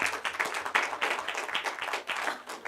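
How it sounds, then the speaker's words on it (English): Applause from a church congregation celebrating a charity tithe, a steady spread of many hands clapping at moderate loudness with no voices over it. "Round of applause."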